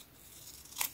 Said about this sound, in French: je vais finir au ciseau